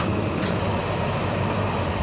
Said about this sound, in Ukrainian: Як вам подобається в африканському поїзді їхати?